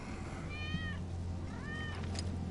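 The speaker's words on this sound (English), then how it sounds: "That's Wedge's cat" Wedge's cat in the video game Final Fantasy VII Remake gives two clear meows, each a short rising-then-falling call about a second apart, close by over a low background hum.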